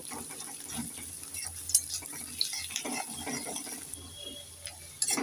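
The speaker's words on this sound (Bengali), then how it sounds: "পেঁয়াজগুলোকে একটু নেড়ে চেড়ে আমি লাল লাল করে ভেজে নেব" Chopped onions are stirred in a frying pan with a spatula, giving irregular scraping, clicking and clattering strokes over a faint low sizzle, fairly quiet and close with no talking.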